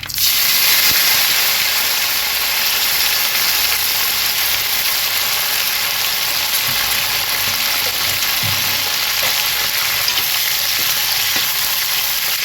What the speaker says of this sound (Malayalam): നമ്മൾ വറ്റൽമുളകും കറിവേപ്പില ഇട്ട് കൊടുക്കാം.